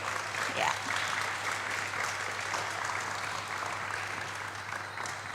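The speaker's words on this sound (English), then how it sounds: "can we once again give a round of applause for the all performers here?" Audience applause for performers at an interfaith dialogue event, a steady broadband clapping wash held at an even level for about five seconds, with a low steady hum beneath.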